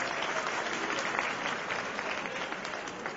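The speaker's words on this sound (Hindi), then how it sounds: "आप सब लोग मेरा जोर से तालियां बजा दें" Sustained applause from a large audience at a booth coordinators' meeting in a Delhi hall, a dense, steady wash of clapping that holds at an even level throughout, with no voices standing out.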